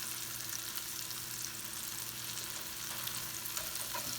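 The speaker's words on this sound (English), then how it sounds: "Stir this around, melt the cheese down" Cheesesteak meat and melting cheese sizzling on a hot griddle, a steady moderate frying hiss with faint scraping from stirring, no voices.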